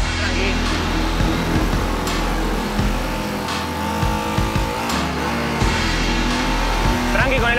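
A loud motorcycle engine revs and drones continuously during a racing championship practice, pitch rising and falling with throttle, with tire noise and faint background voices underneath.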